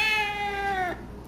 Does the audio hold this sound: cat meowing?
yes